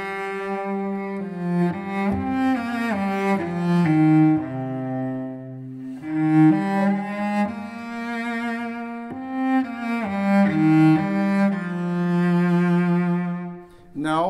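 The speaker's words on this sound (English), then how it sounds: "The famous Danny Boy, I'll play the original version." A solo melodic instrument plays the Irish air Danny Boy in its original form, with sustained, singing notes, slow phrasing and a short breath between phrases. It is clear and close, with no talking.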